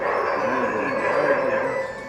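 A paralysed puppy yelps and whimpers in a village, a continuous high, strained crying that stays close and loud across the whole stretch with no pauses.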